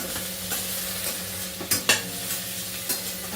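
Finely chopped potato is stirred and sautéed in a pan, with a steady oily sizzle underneath and a few sharp scrapes of the spoon against the pan.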